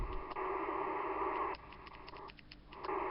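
A new radio tuned to the AM band plays faintly: a muffled, band-limited broadcast hum with a dip midway before the sound swells back.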